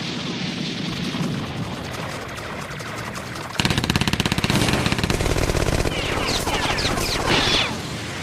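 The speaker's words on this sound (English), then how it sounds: "They're shooting guns!" Rapid gunfire from an anime battle scene, a dense burst of automatic shots with heavy booms, loud and continuous over a tense backdrop, growing busier toward the end.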